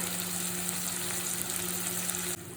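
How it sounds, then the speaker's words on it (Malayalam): A loud, steady sizzle of prawns frying in hot coconut oil, crackling continuously close by with no talking. "ഞാനിപ്പോൾ പൊരിക്കുകയാണ്. വെളിച്ചെണ്ണയിൽ ഫ്രൈ ആക്കുകയാണ്."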